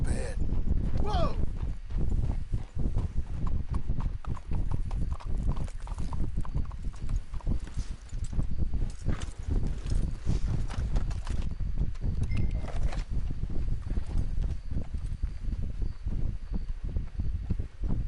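Horses walking in Red Dead Redemption 2, a steady clip-clop of hooves close by and continuing throughout, with a voice speaking briefly over it.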